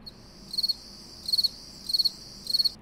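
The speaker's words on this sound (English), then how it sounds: "Where's that cricket sound clip?" Four evenly spaced bursts of bright, rapid cricket chirping stand out over faint low background noise, each a quick trill of pulses.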